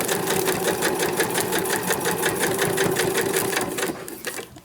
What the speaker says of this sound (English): Just stitching along.